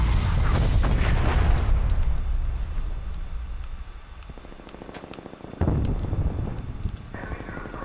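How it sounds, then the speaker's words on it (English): Artillery strike explosions in Call of Duty: Black Ops Cold War during a multiplayer match, heavy booms and bursts layered with gunfire and game effects, loud at first then thinning out into sparser impacts. "Artillery inbound."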